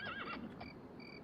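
A horse whinnies in the video game Daggerfall, a quavering neigh up close at first, followed by soft hoof clops and quiet background ambience.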